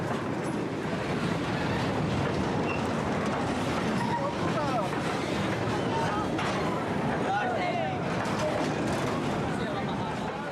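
A moving freight train, steady loud rolling rumble and rattle of wagons with faint squeals throughout, with speech heard over it.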